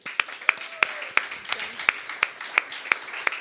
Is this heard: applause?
yes